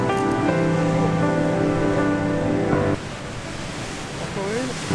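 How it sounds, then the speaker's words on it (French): Sea waves wash steadily onto the shore along a coastal countryside hike in spring, a constant loud rushing surf with some faint tonal sounds mixed in over the first few seconds. "Il y a beaucoup de mouvements dans les vagues."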